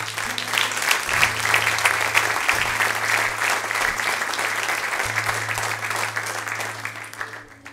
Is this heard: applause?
yes